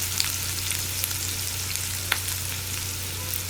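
Carrot chutney ingredients frying lightly in a pan give a steady, soft sizzle with a low constant hum beneath and a few faint clicks, heard close and alone without any voices.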